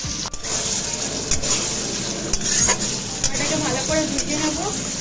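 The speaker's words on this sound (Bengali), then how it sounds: "এটাকে ভালো করে একসঙ্গে মিক্স করে ভাজবো এটার মধ্যে আমি দিচ্ছি হচ্ছে পেঁয়াজ বাটা আর হচ্ছে আদা রসুন বাটা" Onion paste and ginger-garlic paste frying in a pan, a steady close sizzle with scraping stirs and a few sharp clicks of a utensil against the pan, with no talking.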